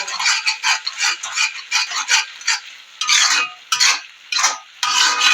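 Fish fry ingredients stirred and mixed by hand in a bowl, a steady run of close scraping, rubbing strokes that quicken and lengthen toward the end, with no voices.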